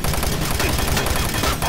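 Enemy gunfire in Doom 3 rattles continuously at close range, a dense barrage of rapid shots filling the short moment with steady loudness.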